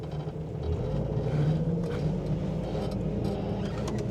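A 1983 Ford F-150 XL with a Borg-Warner manual transmission cruises in second gear, its engine a steady, close low rumble with no voices.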